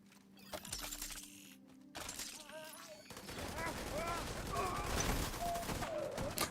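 A turret in a video game fires rapid bursts of shots. The clicks and pops grow busier and denser over a few seconds and mix with bright chirping effects, all while someone talks over the top.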